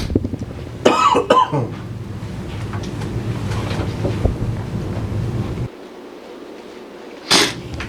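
A person coughs into the microphone at a board meeting, a couple of sharp bursts early on and another near the end, amid room and breathy background noise.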